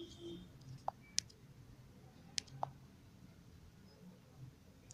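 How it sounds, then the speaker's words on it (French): A computer mouse clicks softly a handful of times, isolated sharp taps against a quiet room background, with a person speaking French nearby. "Maintenant, je clique en haut ici."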